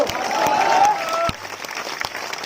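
Crowd clapping at a large political rally in a Gujarat village, a dense patter of applause under a voice for the first second, then thinning.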